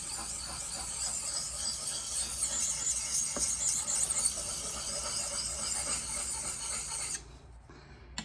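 A blade is sharpened with circular strokes, giving a continuous scraping, rasping rub at moderate volume with no talk, stopping abruptly near the end.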